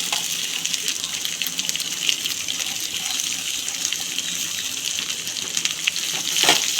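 Onions and grated coconut sautéing in a pan for onion kurma give off a steady, close sizzle that holds throughout with no talking.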